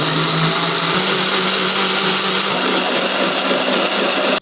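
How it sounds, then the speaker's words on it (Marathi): A mixer grinder blends curd without water, whirring steadily at high speed, a loud continuous motor drone with a gritty churning texture throughout, no voices. "आता पाण्याचा वापर न करता आधी हे मिक्सरला फिरवून घेऊया"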